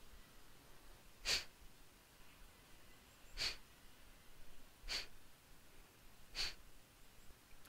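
Deep, forceful exhales during nauli kriya stomach-vacuum practice: four sharp, breathy bursts spaced about two seconds apart, close and fairly quiet over faint background hiss.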